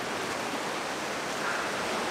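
Sea waves breaking at the seaside, a dense, steady wash of surf with no voices, close and continuous throughout.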